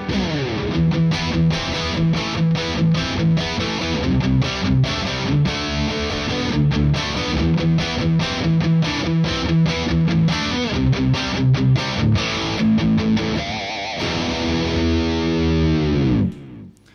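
Distorted electric guitar played through a Dimarzio AT1 pickup strums a string of loud, rhythmic chords with crunchy, sustained tone, ending in a final ringing chord that cuts off.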